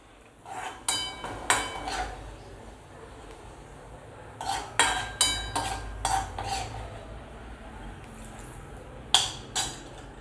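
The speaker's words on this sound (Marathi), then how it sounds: "आता मी ह्याच्यात हा कांदा असा मिक्स करणार आहे" Fried onion being mixed into mutton for biryani in a pot, with scattered clanks and scrapes of a spoon against metal in short bursts over a low background hum, with no talking.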